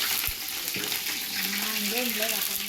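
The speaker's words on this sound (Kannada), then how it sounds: "ಬಿಸಿ ಬಿಸಿ ಬಿಸಿ ಎಣ್ಣೆಗೆ ಪಲಾವ್ ಎಲೆ, ಈರುಳ್ಳಿ ಹಾಕಿದ್ಲು." Bay leaf and onion hitting very hot oil set off a loud, steady hiss of frying that fills the whole stretch, with a spoon scraping and a short clink near the start.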